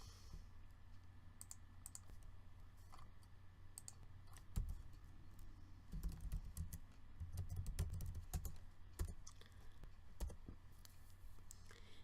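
Fingers type text into Excel spreadsheet cells on a computer keyboard, a steady run of soft close keystrokes with denser bursts of clicks partway through, under faint room hum.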